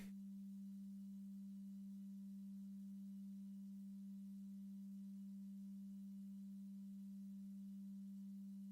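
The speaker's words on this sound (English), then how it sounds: "All it's going to give you is that basic, like, sine wave oscillator." A steady, pure sine tone from a Eurorack modular synthesizer oscillator, holding one unchanging low-mid pitch for the whole stretch, quiet and alone with no talk.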